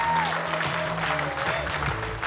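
A studio audience at a Kazakh comedy show breaks into steady, dense applause, a continuous patter of many hands that holds evenly for a couple of seconds.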